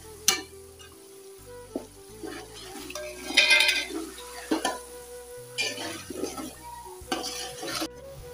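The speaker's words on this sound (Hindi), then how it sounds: "मैंने ना मसाले और गोश्त को तरीके से भून लिया है।" Meat and whole spices frying in a pot, with scraping stirs, metal utensil clinks against the pan and a soft sizzle running throughout, close and moderately loud, with no talking.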